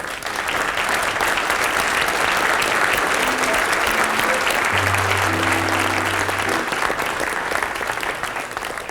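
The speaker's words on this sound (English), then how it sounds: "I want you all to meet again and applaud Ms. Josie Carey." A large audience applauds at a television and radio awards ceremony, the clapping dense and steady from start to finish and loud, with a few faint tones and a low hum underneath.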